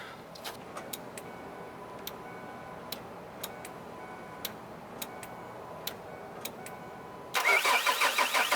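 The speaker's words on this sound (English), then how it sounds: "to start the truck." A truck starts on a jump starter: a series of sharp, sparse ticks and clicks, then the engine catches and fires into a loud, close, throbbing run.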